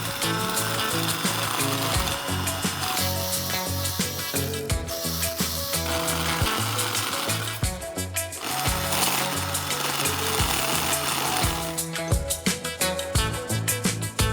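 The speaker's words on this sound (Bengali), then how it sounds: "এই ডিস্ক স্যান্ডার দিয়ে আমি এটিকে ক্লিন করে" A homemade disc sander built from a CD sands a damaged piece of particleboard. It gives a steady, close motor whine with a rough, chattering grind that surges and eases in rhythm throughout.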